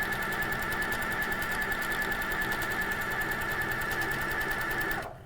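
A quilting machine stitches feathers in a fast, steady, even run of needle strokes, close and alone, stopping abruptly near the end.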